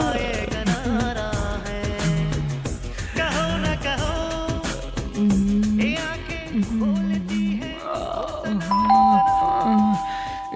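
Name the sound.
doorbell ringing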